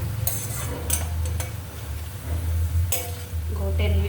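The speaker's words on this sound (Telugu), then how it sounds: "కాకరకాయ అయితే ఇట్లా ఫ్రై రావాలి, మెరూన్ కలర్ రావాలి." Bitter gourd frying in a pan until maroon-coloured, with a steady low sizzle under intermittent scraping and stirring clinks of a utensil against the pan, close and moderately loud.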